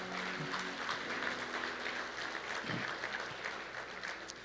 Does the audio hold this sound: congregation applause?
yes